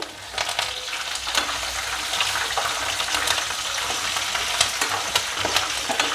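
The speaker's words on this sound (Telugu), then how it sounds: "ఈ పప్పులన్నీ ఫ్రై అయిన తర్వాత పచ్చిమిర్చి వేసుకోవాలి కరివేపాకు కూడా వేసుకుంటున్నాను" Lentils, green chilies and curry leaves fry in hot oil for a tempering, giving a steady, close sizzle with scattered sharp crackles and pops throughout, no voices.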